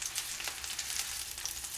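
Chicken breast steak sizzles steadily in a hot pan just after being flipped, a close, even crackle with no voices.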